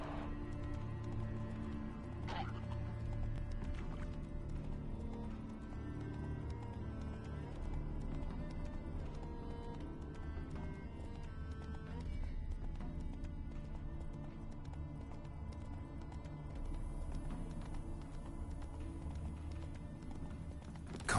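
The horse Roach's hooves clip-clop in a steady, fairly quiet rhythm in the Witcher 3 game, with light ambient game sounds underneath and no speech.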